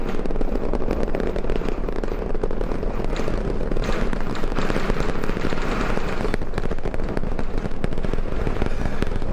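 Roaring liftoff of a SpaceX Starship rocket powered by Raptor 3 engines, a loud, continuous crackling rumble with rapid popping bursts that fills the whole stretch without a break.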